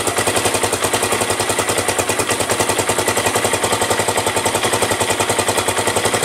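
Tbr7 engine idling after sitting unused, a loud, close, rapid and even putter of firing pulses throughout, with no voices.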